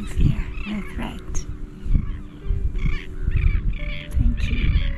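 Seabirds call on a remote Australian island, a close mix of harsh croaking cries and higher yelping and whining notes that come in repeated bursts, with a faint low background murmur.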